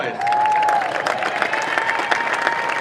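A large crowd claps loudly and steadily, with scattered cheers and a whistle rising over the applause, at the global debut event of the new Ford Mustang.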